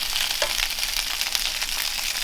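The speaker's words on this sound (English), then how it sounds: "We'll start those slowly cooking with the sausages." Onions and sausages fry in a pan at home, giving a close, steady, even sizzle with a light crackle throughout and no talking.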